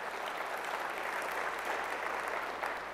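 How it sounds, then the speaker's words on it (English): Conference audience at a HealthTrust University session gives a round of applause, an even, continuous patter of many hands clapping, soft and steady for a few seconds. "Big round of applause"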